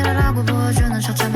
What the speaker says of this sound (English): Really cool percussion sounds. Pan to the left and to the right.